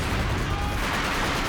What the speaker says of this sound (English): That's the officer's heavy mortar strike coming down there.